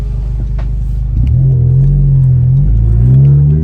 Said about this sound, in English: you can hear the turbo spool, you can hear the exhaust more, it changes the tone